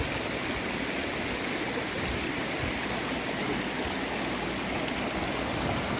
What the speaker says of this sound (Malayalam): നല്ല കറുത്ത പാറക്കല്ലുകൾ നിറഞ്ഞ മനോഹരമായ ഒരു ചെറിയ അരുവിയാണ്